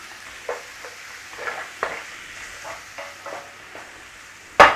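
Onions frying in butter in a pan, a soft steady sizzle with several light scrapes of stirring and a sharper clatter near the end, close and fairly quiet.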